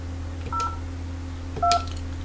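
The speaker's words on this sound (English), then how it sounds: "dial the extension or phone number you would like to transfer the call to" A Polycom 450 desk phone sounds two short DTMF keypad tones about a second apart, each a crisp beep over a steady low electrical hum.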